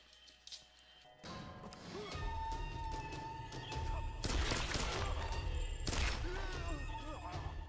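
Pistol shots in Tomb Raider 2013 crack out as sharp bangs, with two especially loud reports standing out over a busy mix of crashing game action and effects.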